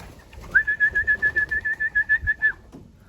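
A racing pigeon's call rings out nearby: a quick run of about a dozen even pulses on one pitch, lasting roughly two seconds against quiet surroundings.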